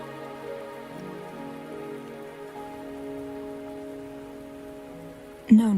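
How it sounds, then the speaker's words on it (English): Steady rain falls in the video game Wuthering Waves, a continuous even patter with a low musical drone beneath it and a sudden louder hit near the end; no voices. "Are you trapped here by the rain?"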